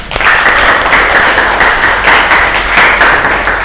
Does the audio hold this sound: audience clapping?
yes